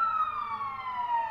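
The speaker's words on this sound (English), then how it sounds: "Fire truck," A fire truck siren wails in a smooth falling tone, a single sustained sweep heard clearly and fairly close, with no voices over it.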